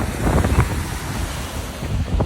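Ocean waves washing against an island coastline, a continuous rushing surf mixed with heavy wind buffeting the microphone, loud and close with low rumbling gusts.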